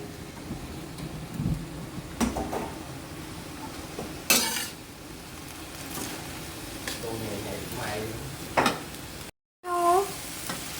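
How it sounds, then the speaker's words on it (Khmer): Noodles with carrot, cabbage and other vegetables are stir-fried in a pan, with a steady sizzle and a few sharp scrapes of the utensil against the pan, and a person speaks briefly near the end. "ចឹងយើងឆាឲ្យវាចូលបន្តិចទៅ"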